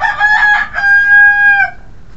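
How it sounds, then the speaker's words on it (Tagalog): A rooster lets out a single clear crow, a bright drawn-out cock-a-doodle-doo close to the microphone, ending abruptly in a quiet farmyard. "Mga alaga nating mga ibon."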